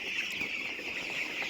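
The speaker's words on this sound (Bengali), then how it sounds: "মুরগিগুলা" Chickens cluck intermittently on a village farm in the early morning, close by and fairly soft, over a steady high-pitched insect-like drone, with no talking.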